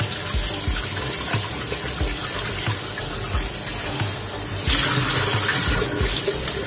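Tap water runs steadily over food being rinsed in a kitchen sink, a continuous splashing wash that swells louder for the last couple of seconds.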